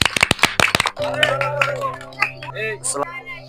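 Several sharp, close hand claps come in a quick burst at a village children's game, then stop as someone talks loudly over a background hum.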